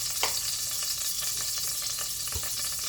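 Onions fry in a mix of ghee and coconut oil, giving a steady bright sizzle up close with a few soft stirring taps and knocks.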